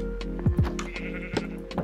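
Sheep bleat in a Minecraft survival game, several short wavering calls in quick succession, moderately loud over a steady low background hum.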